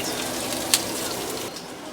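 Onions and peppers frying in a cast iron pan, a steady close sizzle with a brief louder crackle partway through and no talk over it.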